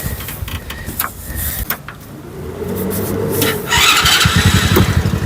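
A 125cc gas engine on a converted golf cart cranks and catches, settling into a close, steady rhythmic putter that grows louder toward the end.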